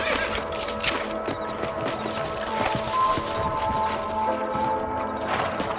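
Horses whinny over the clatter of hooves and thuds in the Red Dead Redemption 1 game soundscape, with a steady background tone throughout.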